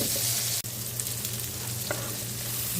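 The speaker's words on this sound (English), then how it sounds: "Then we'll add our peppers and onions." Peppers and onions frying in melted butter in a pan, a steady close sizzle with crackle throughout and a brief dropout near the start.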